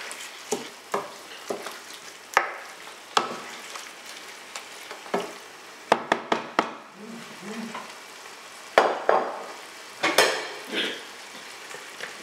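A spoon stirs Cameroonian eru stew in a cooking pot, giving scraping and clinking strokes at an uneven rhythm over a steady sizzle, close up, with no voices.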